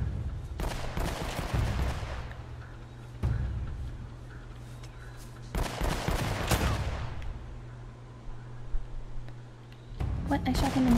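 Bursts of gunfire from the video game Uncharted: Drake's Fortune, with sustained automatic volleys around a few seconds in and again mid-clip, separated by quieter stretches of ambient game sound.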